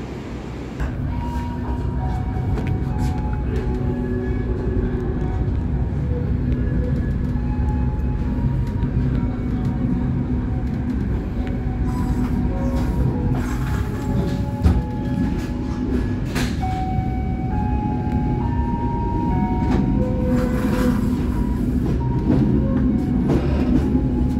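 Argo Bromo Anggrek passenger train in Indonesia running on rails, heard from inside as a steady, loud rumble and roar of wheels with faint rattles and clunks throughout.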